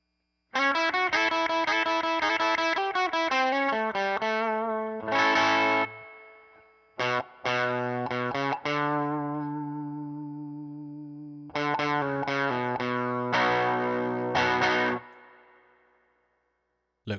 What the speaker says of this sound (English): we're starting to move slightly away from the sort of clean edge of breakup sound to more of a distortion sound